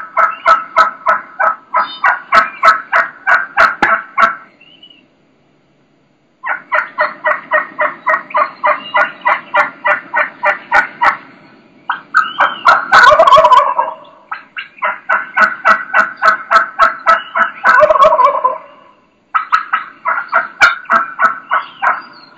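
Wild turkey gobbler gobbling with a hen cutting, loud and near: long runs of rapid, evenly spaced sharp clucks broken by short pauses, with a harsh rattling gobble bursting in partway through.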